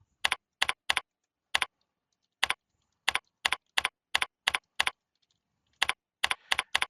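Typing on a computer keyboard while entering a paper title in Word: short bursts of crisp key clicks in quick pairs and triplets, separated by brief pauses, close and clear with no talking.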